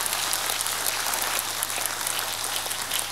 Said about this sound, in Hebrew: רבותיי ורבותיי, קבלו במחיאות כפיים בבקשה גיא קליין